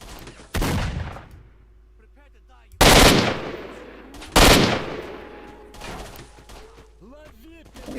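Heavy gunfire in a firefight in STALKER: Shadow of Chernobyl: three loud, booming shots with long reverberant tails spaced a couple of seconds apart, with faint tonal game sounds and brief voice-like chirps between them.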